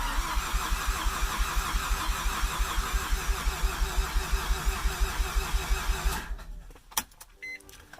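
A car engine cranks with a rapid, even chugging rhythm for about six seconds without catching after an igniter replacement, then cuts off, leaving a couple of clunks and faint noise.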